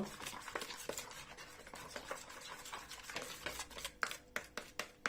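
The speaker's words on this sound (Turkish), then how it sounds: "İyi bir karıştırma." Spices, including sweet red pepper powder and salt, are stirred into chicken pieces for homemade döner, with soft scraping and squelching strokes followed by a run of sharper utensil taps against the bowl near the end.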